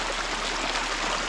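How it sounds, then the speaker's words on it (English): A rain-swollen river rushing along a mountain trail, a steady close hiss of flowing water with no break and no voices. "It's a river."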